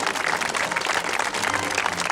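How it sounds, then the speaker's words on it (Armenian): A crowd applauds at a school football tournament in Yerevan, its clapping a dense, steady wash of many hands that holds throughout without a break. "Այո, ծափահարությունները տեղին են։"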